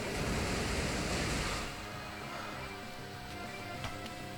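Pokémon Water Spout attack in a competitive video game battle, a loud rushing watery whoosh that fills the first second and a half, then drops to a softer sustained hiss.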